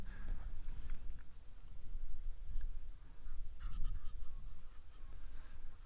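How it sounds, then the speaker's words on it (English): Egyptian geese honk and squabble in the distance, with repeated harsh calls scattered over steady outdoor background noise. "continuously hearing the Egyptian geese carrying on with their gang warfare"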